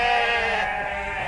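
Sheep bleat on a large farm of about 2,400 sheep in South Lampung. Several overlapping calls form a dense, continuous, loud chorus with no talking.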